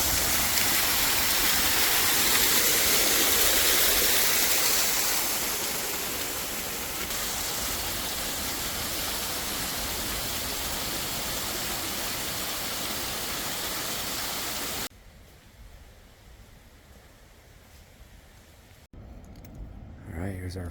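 Waterfalls along the muddy Hanakapi'ai Falls trail on Kauai give a dense, loud rushing roar that eases slightly, then drops away sharply to quieter outdoor ambience with some handling noise near the end.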